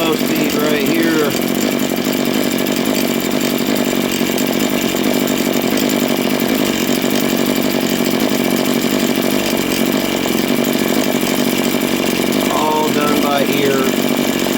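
A RedMax TRZ230S two-stroke engine runs loud and steady during carburetor tuning, with a constant buzzing drone and slight pitch wavers near the start and end, and a voice talking over it.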